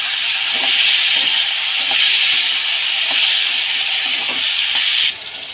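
Boiled elephant-foot yam greens hit hot oil seasoned with whole cumin, producing a loud, continuous hissing sizzle that holds steady and then drops off abruptly near the end.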